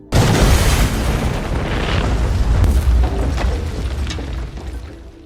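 A loud explosion booms at the start, followed by a long roaring rumble and debris noise that slowly fades.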